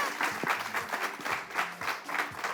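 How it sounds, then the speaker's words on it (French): A studio audience at a French TV presenter competition final applauds steadily for a guest, a dense continuous wash of clapping that swells and dips in waves without letting up. "Est-ce qu'on peut applaudir pour Aura Bank s'il vous plaît?"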